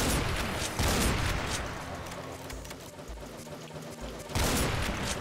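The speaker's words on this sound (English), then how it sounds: "Super shotgun." Super shotgun blasts in Doom, dense booming shots in a heavy, chaotic fight, with a loud burst at the start and another near the end, between them a rumbling wash of combat noise.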